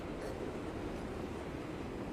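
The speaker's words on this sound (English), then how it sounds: "if you want to leave, then get on the train turntable" A cartoon train turntable turns with a steady, even mechanical rumble that holds at one level the whole time, with no voices over it.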